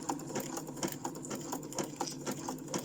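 A sewing machine runs a test seam with a steady, quick rhythmic chatter of needle strokes, close and moderately loud, heard without voices.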